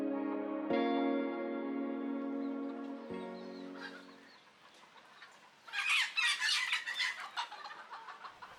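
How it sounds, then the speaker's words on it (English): Chickens near Soi Rambutree in Bangkok, heard early in the morning: a rooster's long crow, then a burst of lively, overlapping clucking from several birds close by. "these are the chickens that are keeping you awake"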